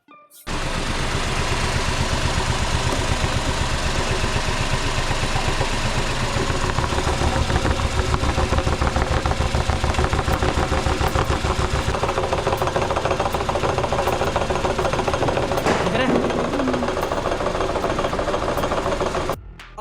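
A Tata Tiago car engine after four years and 50,000 km idles steadily for about twenty seconds, a continuous even hum with fine rapid pulsing, close and unbroken.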